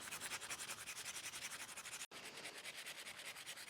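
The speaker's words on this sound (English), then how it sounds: "then we are gonna start filing the entire surface" Gel stiletto nails are filed across their whole surface with quick back-and-forth rasping strokes, a soft, close scratching rhythm with one brief pause partway through.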